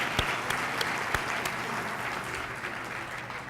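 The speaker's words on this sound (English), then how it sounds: "Let's applaud all of you for that significant accomplishment." Staff conference audience applauding in a large room, a steady crackle of many hands at moderate distance, with a few louder nearby claps punctuating the wash.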